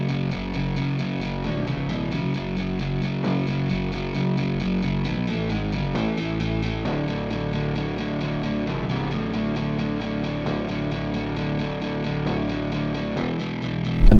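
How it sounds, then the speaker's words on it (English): NR2 808 Reese bass synth preset playing alone: a heavy, distorted low bass drone with a thick buzzing upper layer, held steadily loud across the whole stretch with a few note shifts and a final swell. "this is a bass preset called 808 or Reese"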